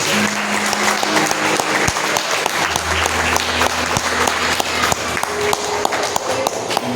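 Church congregation at an Assembleia de Deus service applauding together, loud, sustained clapping with sharp individual claps standing out and a low hum of voices or instruments underneath.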